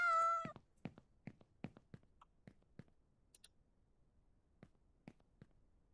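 A house cat gives a single clear meow at the start, followed by a series of sparse, sharp clicks and taps in an otherwise quiet room.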